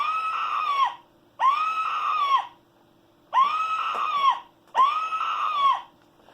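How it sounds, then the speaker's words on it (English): Four loud, sustained screams play one after another with short silent gaps between them, each a harsh, even wail lasting about a second. "You get an extra scream."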